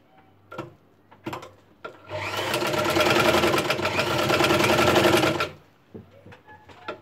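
A sewing machine runs a steady stitch for about three seconds while sewing a neckline fitted with buckram, framed by a few short taps and clicks before and after.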